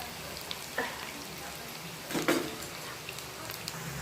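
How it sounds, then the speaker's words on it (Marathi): Onion pakoras (bhaje) deep-frying in oil, heard as a soft steady bubbling crackle with a few sharper clatters of a utensil against the pan along the way. "तर छान असे टेस्टी मस्त तळून घेणार आहोत कांद्याचे पकोडे किंवा भजे"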